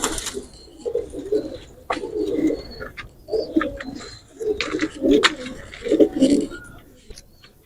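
Soft, repeated cooing of pigeons in rhythmic bursts, fairly close, with faint fluttering and scratching between calls.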